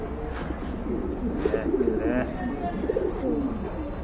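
Pigeons in a pair kept for sale, large full-size birds of a rare collection, coo in soft repeated low bursts close by over a noisy indoor background.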